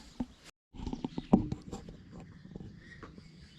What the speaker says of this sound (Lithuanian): nes pradėjo lietus lyti